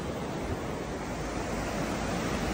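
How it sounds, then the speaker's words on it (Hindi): Fast-flowing river water at a camping spot, a dense steady rushing roar filling the whole moment, close and unbroken with no voices. "पानी का बहाव बहुत ज्यादा है"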